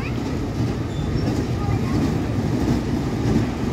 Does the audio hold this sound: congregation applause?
no